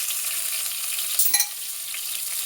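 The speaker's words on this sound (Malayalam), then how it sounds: "ഒന്ന് നന്നായിട്ട് വഴറ്റുക." Netholi (anchovy) curry masala fries in a pan with a steady, close hiss, and a quick scrape of stirring cuts through the sizzle partway through.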